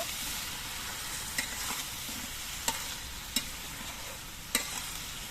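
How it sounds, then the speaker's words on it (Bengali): Salted vegetables for a wedding-style chhyachra stirred in a frying pan, a steady broadband sizzle with a few sharp spatula scrapes and clicks spaced through it, close and moderately loud, no talking. "এবার সবজিগুলোর মধ্যে দিয়ে দিচ্ছি পরিমাণ মতো নুন নুনটা দিয়ে একটু নুন নেড়ে ফেলে মিশিয়ে নেব"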